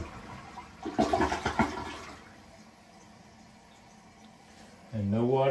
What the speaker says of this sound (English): So we'll give it a flush here.